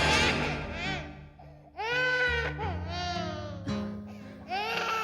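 An infant wails in repeated rising and falling bursts, loud and close, with brief gaps for breath in a tense horror drama scene.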